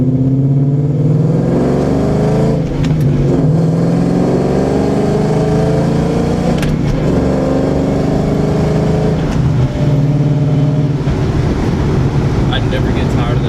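A car fitted with a new bump steer kit runs its engine loudly and steadily close by, the pitch swelling and easing through a few revs, with a voice faintly beneath.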